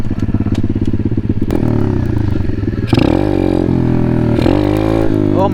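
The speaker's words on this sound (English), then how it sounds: "Let me hit a couple wheelies." A pit bike motorcycle rides in the street doing wheelies, its engine loud and close, buzzing at a steady idle and then revving hard as the throttle opens, with a short clattering thump partway through and no talking.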